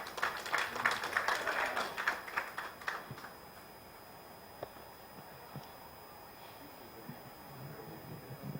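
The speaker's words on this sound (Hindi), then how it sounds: "एक बार जोरदार तालियों से इनके स्वागत में।" An audience at a formal gathering on court language claps to welcome a speaker, a faint scattered applause that fades out after about three seconds, leaving quiet room noise with occasional small taps.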